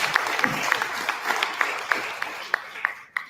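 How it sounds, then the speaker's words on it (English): An audience at a political event gives a smattering of applause, with several distinct sharp claps standing out over a softer crowd wash that fades at the end. "Round of applause, please."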